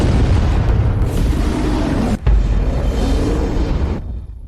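Orbital cannon firing in an animated series, a loud sustained booming explosion roar that briefly cuts out and resumes before fading at the end, with no talk.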